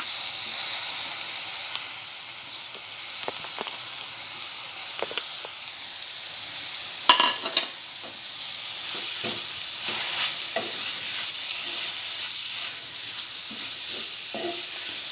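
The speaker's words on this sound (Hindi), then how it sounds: "अब मैं इसमें कोलिम डालूंगी।" Dried shrimp (kolim) sizzling with bitter gourd in a pan over medium-low heat, a steady close frying hiss broken by stirring scrapes, with a brief louder burst of crackle midway.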